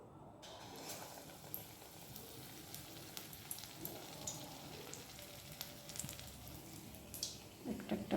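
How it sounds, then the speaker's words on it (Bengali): Snacks frying in hot oil for a popular South Indian snack, with a steady close sizzle and crackle that runs through the whole stretch, rising in bursts toward the end as more pieces go in. "চলো একটা একটা করে এগুলো ডুবো ডুবো করে দিই, এদেরকে তেলের মধ্যে"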